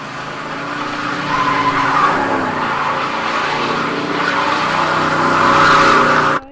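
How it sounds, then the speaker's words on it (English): Car engine revving up in the Silent Hill 2 video game, a loud, sustained rising roar with tire-squeal-like whine lasting several seconds before cutting off abruptly, with no talk. "This is where we hear a car rev up"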